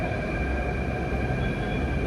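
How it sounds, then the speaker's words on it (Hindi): A metro train arriving at a crowded station, heard as a steady low rumble with a faint high whine from the carriages, continuous and moderately distant. "मेट्रो आबि गेल स्टेशन पर, अब हम सब चढ़ब"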